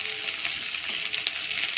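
Chopped green chilies frying in hot oil in a pan while being stirred, a close, steady sizzle with light crackles and occasional scraping.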